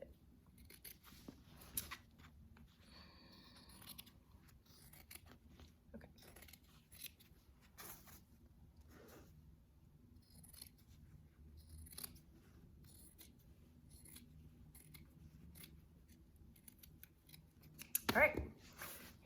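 Fabric shears cut through fabric backed by freezer paper, giving a quiet, faint snipping and rustling under a low room hum, with a louder burst of handling noise near the end.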